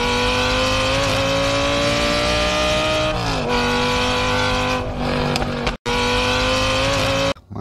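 A green racing sedan's engine revs loudly and steadily at close range, its pitch sweeping down and back up as it shifts, then cutting out briefly near the end before returning; no talking.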